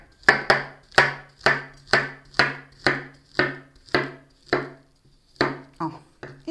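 Peeled bananas sliced into slightly elongated pieces with a knife on a board, giving a steady series of about a dozen crisp, close cuts, each with a brief ringing tail, and a short pause before the last few.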